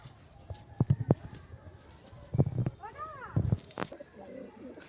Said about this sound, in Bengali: সুন্দর একটা কবুতর